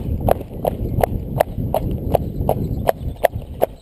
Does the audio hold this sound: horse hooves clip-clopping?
yes